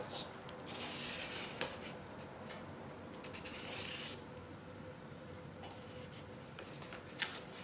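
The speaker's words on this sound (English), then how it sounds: "we're just going to draw us a line all the way up here, both sides" Pen drawing a long line across leather for a knife sheath, a faint dry scratching stroke repeated in short bursts, quiet and close with no talk over it.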